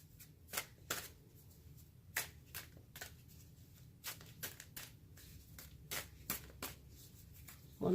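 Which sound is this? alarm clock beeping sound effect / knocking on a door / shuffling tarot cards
shuffling tarot cards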